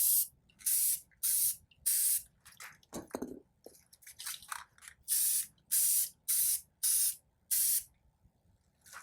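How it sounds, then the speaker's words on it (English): An aerosol spray paint can sprays onto Nike Free shoes in a series of short hissing bursts with quiet gaps between them, close by and fairly even in rhythm. "I don't know nothing about no spray paint, y'all, as you can see."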